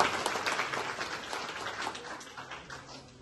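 Audience applause for Prime Minister Narendra Modi at a public speech event, a dense steady wash of many hands clapping that fades gradually over a few seconds, with no talking over it.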